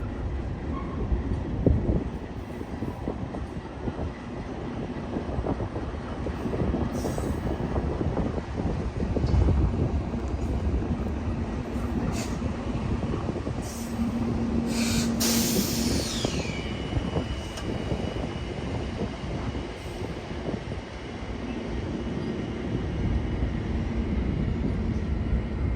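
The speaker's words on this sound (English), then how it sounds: "I was able to get a true sense of the scale of this enormous train." A very long freight train with mid-train locomotives rumbles steadily past in Wyoming, a continuous low roar with rattling wheels and occasional higher squeals, no voices.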